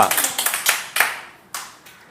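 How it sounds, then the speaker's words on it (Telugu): Children in a classroom clap their hands in a few short, scattered bursts of claps, close and fairly loud, fading between bursts. "క్లాప్స్ కొట్టండి"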